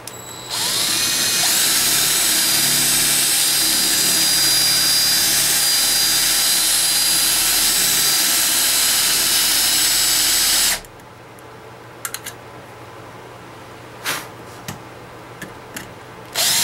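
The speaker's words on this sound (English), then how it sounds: "So let's get started drilling." A loud, steady power drill whines continuously for about ten seconds drilling out rivets on a Corgi Bedford CA van model, then stops, leaving quiet room tone with a few faint clicks and taps.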